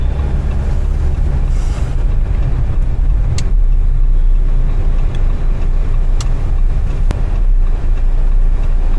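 A 2024 Jeep Meridian SUV drives steadily through a turn, with a continuous low engine and road rumble from inside the cabin, loud and even, and a few faint clicks and squeaks along the way.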